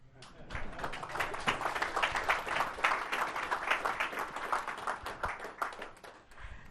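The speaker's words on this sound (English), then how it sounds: "or if you want to applaud" Audience applause after a cybersecurity conference talk on artificial intelligence, a dense, steady wash of many hands clapping across the whole stretch, fairly loud and continuous with no talk over it.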